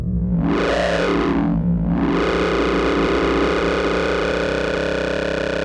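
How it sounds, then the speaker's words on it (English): A gritty, distorted acid synth sample on an Arturia MiniFreak granular engine with a swooping resonant filter sweep, then a sustained buzzing tone, loud and continuous with no voices. "this one is an acid sound"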